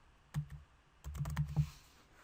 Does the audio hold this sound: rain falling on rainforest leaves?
no